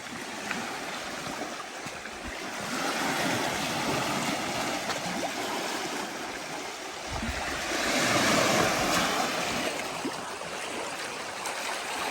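Waves wash steadily onto the Lake Superior shore at high tide, a continuous broad hiss and rush that swells into a louder surge partway through, with no voices.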